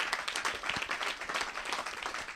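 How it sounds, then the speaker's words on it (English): A church congregation gives a round of applause during a teaching session, with brisk, dense clapping at moderate loudness that carries on evenly without any talk. "give God another great big hand of applause today"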